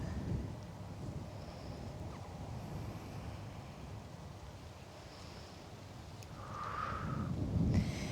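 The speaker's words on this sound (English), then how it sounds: "Here comes another bit of wind." Wind blowing outdoors during an open-air session, a continuous rushing buffet on the microphone that swells stronger toward the end, with faint distant tones in the background.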